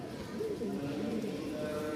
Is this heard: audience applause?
no